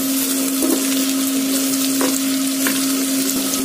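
Ivy gourd (tindora) stir-frying in a pan over a medium flame, a steady close sizzle with soft scraping stirs and a constant tonal hum underneath.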